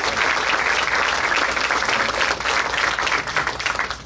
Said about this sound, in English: Give everybody a round of applause for coming.